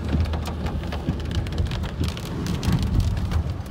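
Hail pelts a car during a storm in Athens: a dense, loud, continuous drumming of impacts on the body and glass, with no voices.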